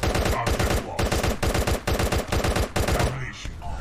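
Rapid machine gun bursts in the mobile shooter Guns of Boom, with loud back-to-back volleys of fast rattling shots separated by brief gaps, ending in a quieter tail.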